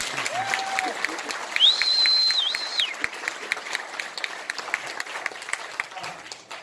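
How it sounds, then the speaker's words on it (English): Audience applause for a jazz band at an outdoor jazz festival: steady, moderately loud clapping, with a few whistles and cheers over it. "So one more applause for them, if you don't mind."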